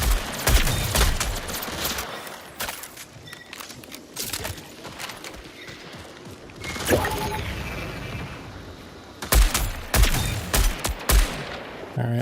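Gunfire in the video game Marathon, with a sniper among the shooters: repeated sharp shots and bursts over a dense, busy game soundscape, several loud cracks clustered near the start, middle and end.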